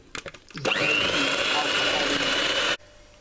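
An electric mixer whirs loudly and steadily for about two seconds while beating a creamy, milky eggnog mixture, starting after a few brief clicks and knocks and then cutting off abruptly.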